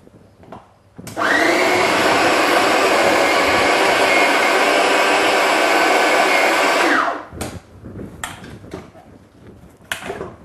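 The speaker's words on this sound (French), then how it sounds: "Donc on repasse un coup de robot." A kitchen food processor whirs loudly for about six seconds, blending a savoury fish crumble mixture into coarse crumbs, then stops, leaving a few light clattering knocks of the bowl and lid.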